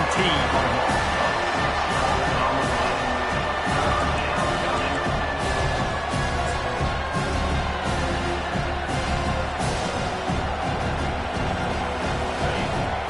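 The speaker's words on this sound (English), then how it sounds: "This crowd bringing the energy and noise early." A college football stadium crowd at Arkansas vs TCU roars in a loud, steady wash of cheering and noise throughout, with brief sharper bursts standing out, all unbroken and close.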